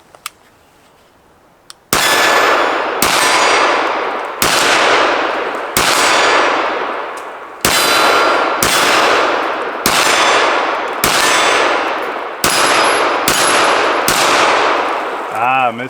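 Pistol shots ring out one after another against steel targets, each sharp crack followed by a long metallic ring, about a dozen loud, closely spaced shots after a quiet start.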